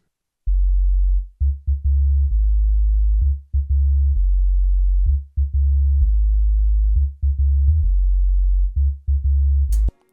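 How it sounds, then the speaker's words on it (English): Synthesized sub bass line programmed in Ableton to stand in for a bass guitar: deep, pure sine-like notes in a steady, repeating rhythm with short gaps, alone and clean, ending with a brief click. "take my bass line, which sounds like this"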